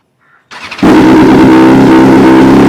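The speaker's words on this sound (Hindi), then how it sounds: "किट किट किट किट की आवाज़ आएगी जब इस बाइक को मैं स्टार्ट करता हूँ।" A BMW S1000RR sportbike engine is started close by: a short starter crank, then the engine catches and settles into a loud, steady idle with a fine, rapid metallic ticking from the valve tappets running through it.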